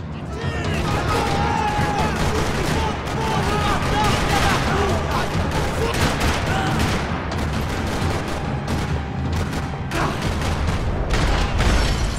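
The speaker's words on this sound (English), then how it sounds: "Another parking lot rattling with gunfire." Heavy, continuous video game gunfire in a parking lot from Max Payne 3 rattles throughout, dense bursts of shots layered with booms, loud and chaotic.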